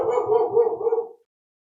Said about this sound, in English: Get rid of that dog for me. He keeps barking outside my window.